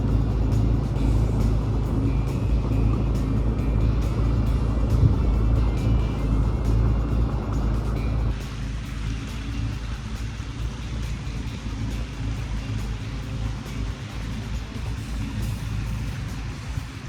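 A jet ski cruises slowly through the canals of Punta Gorda, Florida, its engine a continuous low drone that softens slightly about halfway through, steady and close with no talking.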